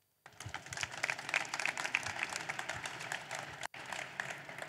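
Audience applause at a tech conference session on climate action with geo data and maps, a steady dense wash of many hands clapping for about four seconds, with a brief dropout near the end before it resumes.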